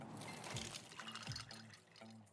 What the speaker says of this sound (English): Those are the sounds of a brand new ice maker dropping cubes into a fresh glass of water.